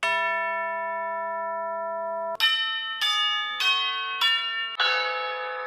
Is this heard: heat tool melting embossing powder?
no